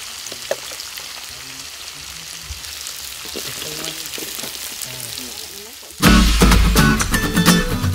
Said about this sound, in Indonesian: bumbu utama yang terdiri dari bawang merah, bawang putih, dan cabai yang telah dihaluskan ditumis di atas api kecil sehingga harum